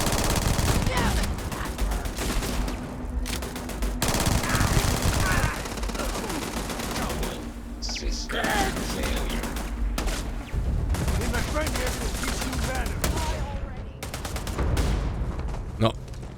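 Enemies shooting at the player in Starfield: rapid bursts of automatic gunfire and scattered single shots ring out through a busy combat scene, with someone speaking intermittently over the shooting.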